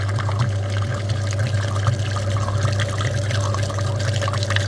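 Water rushes steadily through a Daewoo Lanos heater radiator during a flush of a badly clogged cooling system, a constant close pouring and gurgling stream with no pauses.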